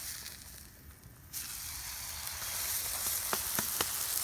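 Steaks topped with pads of butter sizzle on a Mojoe griddle, a dense continuous hiss that swells louder partway through, with a few sharp crackles and pops near the end.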